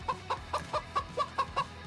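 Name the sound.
chicken clucking sound effect on stream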